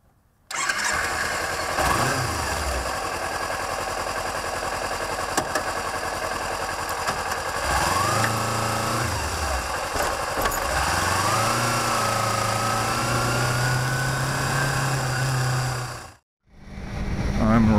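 Kawasaki Ninja 300 motorcycle ridden along 7th Street, Route 66 in old-town Victorville, California: a steady close engine drone that rises and falls through gear changes, with an audible upshift sweep midway, continuous until a brief cutout near the end.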